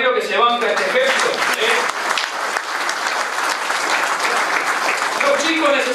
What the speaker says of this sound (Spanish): Démosle un aplauso a Ramiro que se banca este ejemplo.